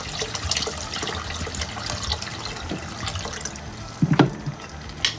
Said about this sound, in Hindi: अब मैं इसमें पानी ऐड कर दूंगी इतने कि ये पककर तैयार हो जाए।